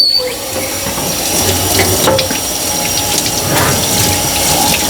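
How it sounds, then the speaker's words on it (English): Water runs and gushes steadily from a tap or hose, washing loose peeling old lacquer paint off a freshly de-rusted metal part after a liquid dip, a continuous close splashing flow with no talking. "so I can actually wash a bunch of this paint off"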